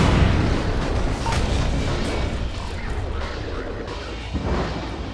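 Heavy booming blasts and rumbling explosions of Strider cannon fire in Half-Life 2: Episode One, loud and continuous, with a low roar dominating throughout and a sharper burst near the end.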